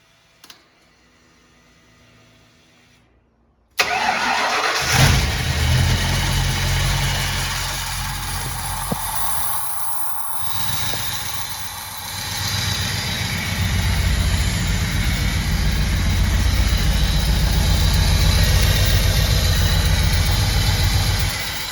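After a quiet stretch, a Ford F100 pickup truck engine cranks and catches with a sudden roar on a test start, then settles into a loud, steady rumbling idle close by.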